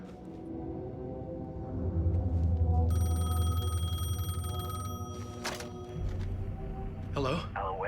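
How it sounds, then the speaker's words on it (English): A payphone in Alan Wake 2 rings with a bright metallic bell tone for a couple of seconds, heard under a man's speech and low rumbling ambience. "The payphone was ringing."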